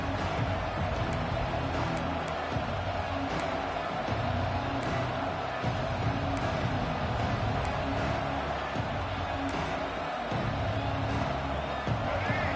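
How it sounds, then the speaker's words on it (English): Stadium crowd in a college football video game roaring loudly and continuously, a dense wall of cheering and whoops filling the whole stretch with no clear pause. "This crowd, full throat, splitting the eardrums"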